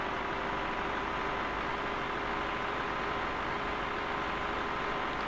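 A tractor engine idles in the Farming Simulator 2013 video game, giving a steady, even low rumble that carries on without a break and with no voices over it.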